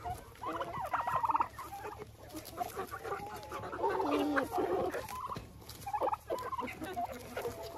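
Turkeys gobbling and clucking in a chicken coop among other fowl, several birds calling in overlapping bursts at close range throughout, with no talk.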